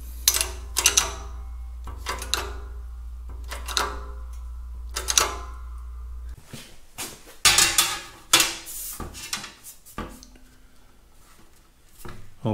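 A shop press cold-forms a flat sheet-metal panel for a Caterpillar D2 crawler chassis rebuild, with a steady low hum under a series of sharp metallic clanks and bangs, irregular and close, followed by scraping and handling noises.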